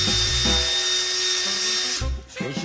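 A power drill spins a polishing cone against a car headlight, giving a loud, steady high whine that rises in speed, with a brief dip near the end before the motor picks up again.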